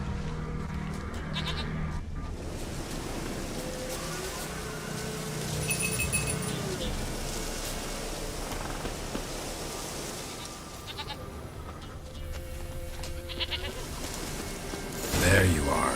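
A goat bleats in The Witcher 3 game amid ambient outdoor game sound and music, the bleats fairly faint and mixed under someone talking over the scene.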